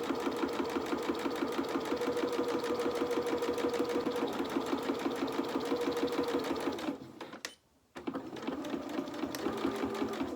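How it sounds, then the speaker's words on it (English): Sewing machine stitching a French seam, a loud close rhythmic needle chatter running steadily, briefly pausing near the end before resuming. "I'm just going to do a couple of stitches forward, a couple of stitches back."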